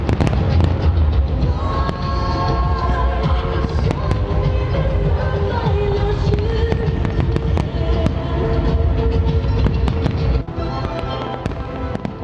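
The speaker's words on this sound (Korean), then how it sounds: "이 연화를 터뜨리면 구형의 국화 모양 불꽃이 나온다." Firework shells burst in dense, continuous crackling and booming, loud and sustained, with a slight drop near the end. The shells are handmade spherical chrysanthemum-pattern aerial fireworks from a Chinese fireworks factory.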